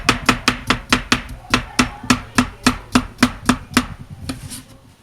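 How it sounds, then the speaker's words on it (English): A knife slicing cucumbers on a cutting board, about eighteen crisp, evenly spaced chops in a quick steady rhythm, close and clear with no talk. "I'm just going to finish up slicing my cucumbers"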